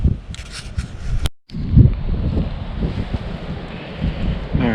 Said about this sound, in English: it's still really windy out here.